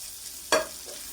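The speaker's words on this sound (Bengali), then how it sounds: "এগুলোকে আমি একটু ভেজে নিব 5 মিনিট, মিডিয়াম টু লো আছে।" Butter, dried red chillies, garlic cloves and tomato frying in a hot wok over medium-low heat, heard as a soft hiss with a single brief scrape-and-sizzle burst midway.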